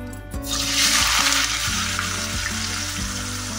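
Thin shredded potatoes hiss and sizzle steadily in hot oil, a loud bright frying sound that rises at the start and holds, with faint clinks underneath.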